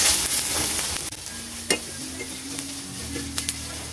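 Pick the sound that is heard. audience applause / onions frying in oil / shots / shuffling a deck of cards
onions frying in oil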